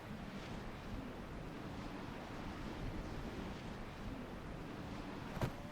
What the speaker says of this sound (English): Yeah, a lot of wind.